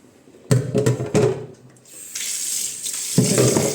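Gooseberries are washed under a running kitchen tap, with splashy bursts of water hitting the fruit and sink in short spurts, then a steadier flow, heard up close.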